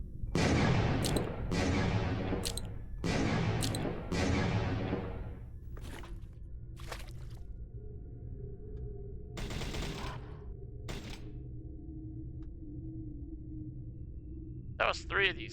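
Underwater bomb blasts from bomb fishing in the video game Dino Trauma: a quick burst of about five heavy booms in the first seconds, then several sharper scattered bursts over a low rumbling backdrop.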